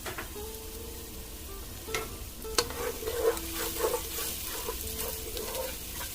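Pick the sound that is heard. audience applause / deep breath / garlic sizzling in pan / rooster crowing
garlic sizzling in pan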